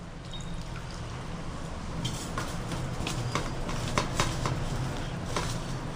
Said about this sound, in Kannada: ಇವಾಗ ಬರ್ರಿ ಇದಕ್ಕೆ ಸ್ವಲ್ಪ ನೀರು ಹಾಕ್ಕೊಳ್ಳೋಣ.